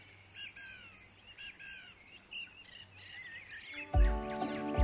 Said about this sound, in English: The feeders bring in lots of other birds too. Great tits, long-tailed tits, blue tits, and coal tits